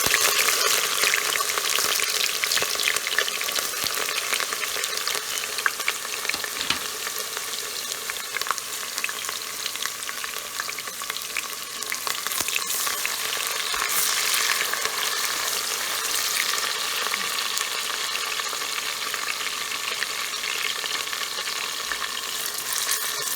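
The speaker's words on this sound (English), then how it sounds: "we are going to start frying our stew" Onions frying in hot oil for a vegetable stew, a steady, close crackling sizzle with occasional stirring sounds, continuous throughout with no talking.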